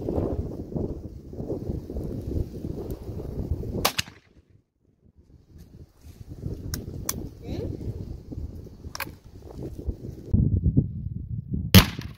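Several sharp gunshot cracks from a Russian single-barrel shotgun ring out, spaced irregularly across wind and rumbling outdoor noise, with a quiet pause before the later shots.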